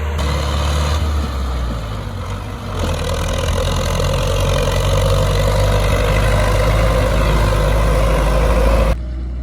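An MTZ-82 tractor pulls a PRT-7 manure spreader across a field, its engine droning loud and steady with a deep low rumble throughout before cutting off at the end.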